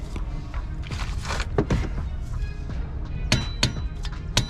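Hammer blows on a screwdriver set through the center of a nut to break it loose while working on an SRT Scat Pack car: several sharp metallic clangs at irregular intervals, close and loud over a shop background.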